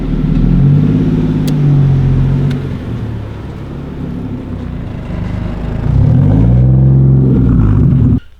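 A car with a stock Toyota 1JZ engine running boost on a test drive gives a loud, continuous interior engine drone that rises and falls as it accelerates and shifts, with no talking.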